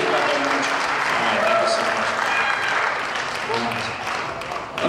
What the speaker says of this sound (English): Give her a great big round of applause.